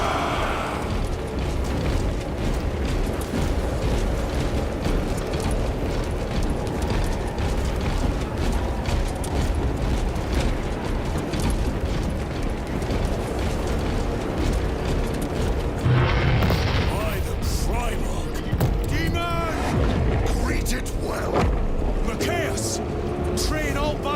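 Battle in the video game Warhammer 40,000: Space Marine 2, with gunfire and explosions merging into a dense, continuous roar and rumbling booms, steady and loud throughout, with voices shouting over the din.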